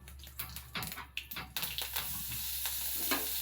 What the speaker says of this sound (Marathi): त्याच्यात आता आपल्याला कढीपत्ता टाकायचा आहे